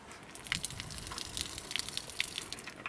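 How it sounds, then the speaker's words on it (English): Water running from a gravity-fed tap at the back of an OKA camper, a soft, steady gush and splash with occasional brighter drips, faint and close, with no talking. "Around the back I've got one gravity fed water tap."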